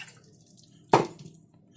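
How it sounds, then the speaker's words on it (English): Boiling water poured into a pan while making a homemade cough and cold remedy, a single brief splash near the middle, close and clear against a quiet kitchen background. "In a pan, add the boiling water."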